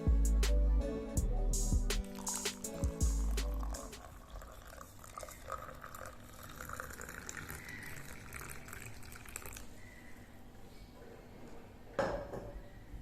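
Warm water, neither very hot nor cold, is poured into a glass for a homemade weight-loss drink. A few sharp clinks of dishware come first, then a steady pouring and filling sound runs at moderate loudness for about ten seconds.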